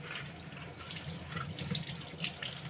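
Running tap water splashing steadily into a sink as fresh banaba leaves are washed by hand, a continuous close rush with slight surges.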